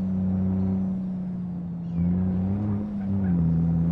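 A concrete mixer truck in the BeamNG.drive driving game skids with its engine droning loudly and steadily, shifting pitch partway through as the heavy vehicle slides, with no talk over it.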